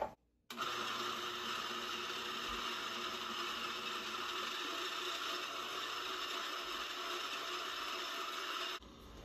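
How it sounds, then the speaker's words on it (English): A Rancilio coffee grinder being restored runs in one loud, continuous whirring grind that starts abruptly and cuts off near the end. "Let's open up the chute and get grinding."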